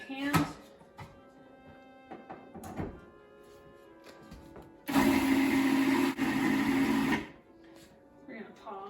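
A food processor whirs loudly for about two seconds while mixing meatball ingredients, preceded by clunks and light handling noises and followed by quieter shuffling.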